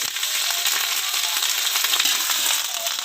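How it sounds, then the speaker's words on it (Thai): Thai curry paste sizzles hard in a hot pan as it is stir-fried, a loud continuous frying hiss with soft scraping from stirring. "แล้วก็คั่วพริกแกงให้หอมนะครับ"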